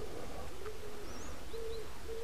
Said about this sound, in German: Sie hören im Hintergrund die Tauben.